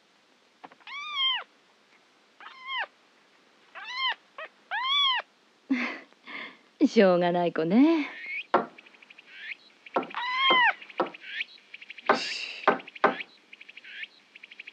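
An animated kitten meows over and over, high and plaintive, in short separate calls with gaps. Someone speaks briefly among the meows in a quiet indoor scene.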